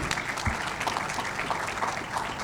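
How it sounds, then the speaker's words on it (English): An audience claps in a steady, dense round of applause for Admiral Hari Kumar, India's Chief of Naval Staff, at a defence industry event, fairly loud and continuous for a couple of seconds. "Let's give him a round of applause."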